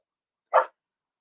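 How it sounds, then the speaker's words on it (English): A single short dog bark sounds once from somewhere in the background of a quiet indoor room, brief and moderately faint, with nothing else around it. "I apologize for Ember barking in the back."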